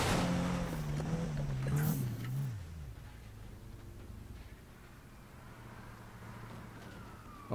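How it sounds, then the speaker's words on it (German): Police sirens chase a car in the racing game Need for Speed 2015, one siren wail sliding down in pitch over a loud engine drone for the first few seconds before fading into a quieter low rumble. "Oh, ich höre die Bullen."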